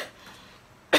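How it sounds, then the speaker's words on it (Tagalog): A single sharp cough bursts out near the end of an otherwise quiet indoor moment, loud and close. "Sorry. May ubo."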